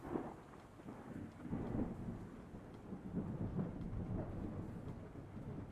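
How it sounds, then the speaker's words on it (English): A video game thunderstorm with a low continuous rumble of thunder and a rain wash, steady and fairly faint throughout, with no talking. "I hate the storms."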